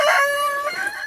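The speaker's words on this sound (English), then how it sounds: "Everybody likes to look at the chickens" A hen in a backyard coop gives a drawn-out, tonal call, loud and close, that wavers and trails off over about a second with no other sounds around it.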